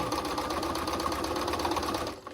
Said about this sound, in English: I'm going to actually sew right to this point, but not go over it, get as close as I can, and just sew the seam down that way